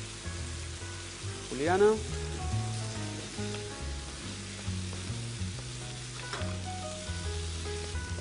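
Chopped onion hits a frying pan and sizzles steadily with occasional stirring, while background music and a brief voice run underneath.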